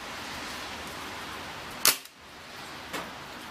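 A ZMZ Tyrex PPA K 01 4.5mm BB machine gun fires single semi-auto shots, a sharp close crack followed by a second fainter pop about a second later, otherwise quiet.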